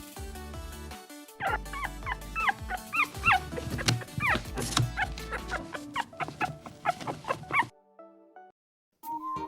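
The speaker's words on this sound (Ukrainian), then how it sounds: "Мама собака, дитинча цуценя." A puppy yips and whimpers in a quick run of high, bright calls over a backing of farm-animal sounds, then the cries stop briefly before a final faint call.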